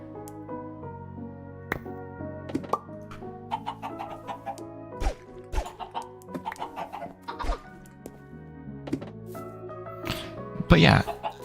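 A Minecraft chicken clucks in short bursts among blocky game sound effects, with a voice talking over much of it and a brief laugh near the end.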